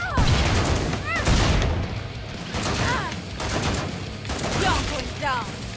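Gunfire in the Killing Floor 2 video game rattles on almost without pause, loud dense volleys of shots with heavy booms, and voices are faintly mixed into the chaos.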